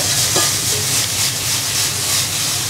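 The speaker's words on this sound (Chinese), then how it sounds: "咁你要煎到去焦香先要再反佢" Wagyu inside skirt steak sizzling steadily in a hot pan, a continuous loud fry hiss with bubbling crackle throughout and no talking.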